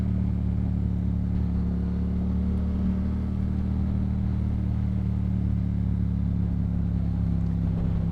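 A Yamaha MT-07 motorcycle fitted with a Yoshimura exhaust is being ridden, giving a steady low engine drone with sustained exhaust tones, heard close and continuous under road and wind noise.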